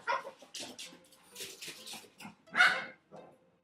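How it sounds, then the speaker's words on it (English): A pet dog named Gizmo yips, whimpers and barks in short irregular bursts at moderate distance, one sharper bark standing out near the end, with no talking in between. "that is my dog making all kinds of noise in the background"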